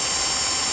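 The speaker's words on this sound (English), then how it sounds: "we're going to go ahead and drill three starter holes with a small drill bit" A drill with a small bit bores starter holes in the sheet metal of a 2009 Mini Cooper Clubman during an electric conversion, a loud, steady, high whine heard close up.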